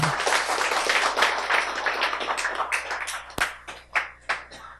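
An indoor audience at a community center gives a warm round of applause, dense clapping that thins out into scattered individual claps toward the end.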